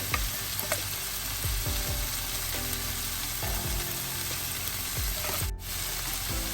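Paneer and chilli paste stuffing sautés in a pan under a constant sizzle, with repeated spatula stirring and scraping strokes close by and no talk.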